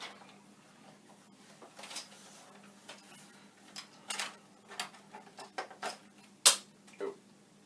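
A screw dropping during a Commodore 64 repair gives a few sharp, faint metallic ticks and clicks near the bench, one louder click standing out among scattered small taps with no talk.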